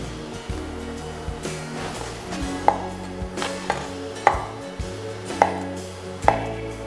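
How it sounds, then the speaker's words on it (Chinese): A knife dices feta cheese on a cutting board in steady, sharp taps, several evenly spaced strikes over a low background hum. "这是我们的 feta cheese， 切个小丁，"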